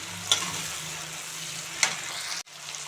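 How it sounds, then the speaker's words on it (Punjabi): Chopped tomatoes are stirred into a potato and cauliflower curry frying in a pan, a soft steady sizzle with a few faint scrapes of the spoon, close and quiet. "ਹੁਣ ਟਮਾਟਰ ਆ ਜਿਹੜੇ ਉਹ ਵੀ ਪਾਤੇ ਨੇ ਇਹਨੂੰ ਸਬਜ਼ੀ ਦਾ ਮਿਕਸ ਕਰ ਲਓ"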